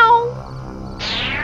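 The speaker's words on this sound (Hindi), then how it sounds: "ओह, बिल्ली।" A cat meows close by in an animated Hindi moral story, a short call followed by a brighter, rising meow over a steady low background tone, with no speech.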